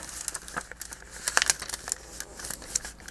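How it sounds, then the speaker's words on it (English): Scissors cutting a piece off a paper junk mail window envelope, close and fairly quiet, with irregular crisp snips and papery crinkling throughout. "And now we're going to cut this piece off."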